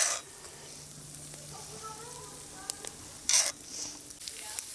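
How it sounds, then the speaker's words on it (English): Potatoes sizzling and frying in bacon grease in a pan, a steady crackle with occasional sharper pops and a brief clatter of a utensil. "We are frying up our potatoes"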